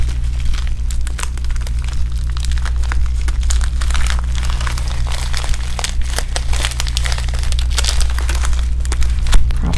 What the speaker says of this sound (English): I'm just opening it for the first time with everybody,